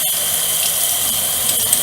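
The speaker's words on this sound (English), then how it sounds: "Let me just give this a little quick rinse" Tap water runs steadily into a kitchen sink during a quick rinse of a bowl or utensil that held Greek yogurt, a continuous broadband hiss with a faint clatter near the end and no talking.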